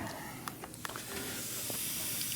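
Compressed air hisses steadily from the air line nozzle of a sand bead blaster in a workshop, a continuous close broadband rush with a few brief clicks and knocks over it.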